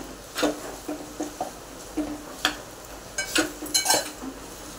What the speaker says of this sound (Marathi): त्याला छान परतून घेऊया आपण, नरम होईपर्यंत.